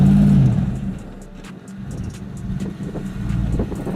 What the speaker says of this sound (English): The H2 rolls back a little and tries to conquer the obstacle, holding the gas pedal a little longer.